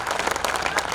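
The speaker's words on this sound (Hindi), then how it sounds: "आपने बहुत मन से तालियां बजाई।" Festival crowd at the Datia Mahotsav 2021 applauding, a steady wash of many hands clapping at close range for about a second.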